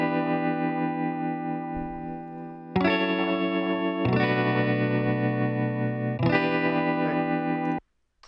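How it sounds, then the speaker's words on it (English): An effects-laden guitar part built in Ableton Live plays sustained, distorted chords with chorus shimmer, changing chord three times before cutting off abruptly near the end. "the first thing that I made for this song was actually this guitar part"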